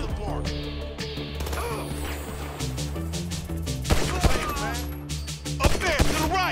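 Gunfire in a GTA V gang fight between Franklin and the Ballas gang: sharp shots crack out now and then, with a louder cluster near the end, over a steady droning game soundtrack.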